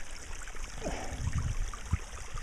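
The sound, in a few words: water running down an erosion gully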